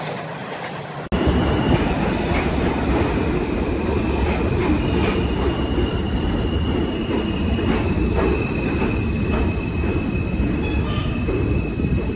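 A subway train runs steadily on its rails, a loud continuous rumble with faint wheel squeals and clicks that begins abruptly and carries on throughout with no voices.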